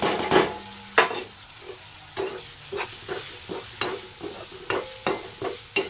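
Chana dal being stirred and fried in a pan with turmeric and chillies, a steady sizzle punctuated by rhythmic spatula scrapes and taps roughly every half second, close and clear with no voices.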